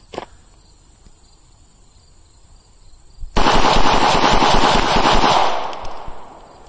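A Canik Rival pistol fires a rapid string of close, loud shots lasting about two seconds, with faint insect chirping outdoors before the string begins.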